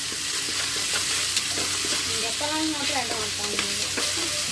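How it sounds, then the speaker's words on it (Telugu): Ginger garlic paste sizzles in a hot pan while being stirred, a constant crackling fry with scraping stir strokes close by. "అల్లం వెల్లుల్లి పేస్ట్ కూడా వేసేసుకొని బాగా తిప్పేసుకున్నాం"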